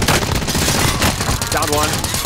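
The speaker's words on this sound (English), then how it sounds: "I'm taking fire! Taking fire!" Dense bursts of machine-gun fire from a video game run continuously and loud, with excited player voices talking over the shooting.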